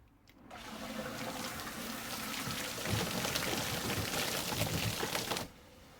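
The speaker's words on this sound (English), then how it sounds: "I'm going to plug this bilge in" A custom bilge pump runs and pumps water, a steady rushing, gushing spray of water that starts abruptly, builds slightly and cuts off near the end, heard alone and fairly loud.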